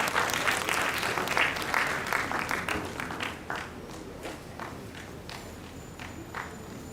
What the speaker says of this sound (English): Please a round of applause once again for him.